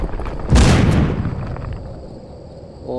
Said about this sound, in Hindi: ओह माय गॉड, ये धमाका देख रहे हो